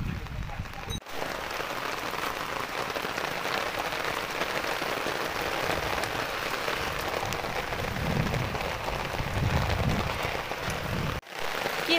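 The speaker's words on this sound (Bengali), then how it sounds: "কি হারে বৃষ্টি হচ্ছে, এই দেখো" Heavy rain falls steadily on surfaces outdoors, a dense continuous patter that holds at an even level for the whole stretch, briefly cut at the start and end.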